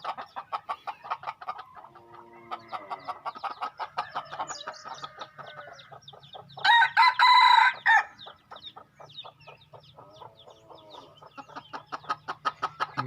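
F2 chickens cluck in quick, repeated rhythmic bursts close by, and a loud crow breaks in partway through. The clucking continues around it without speech.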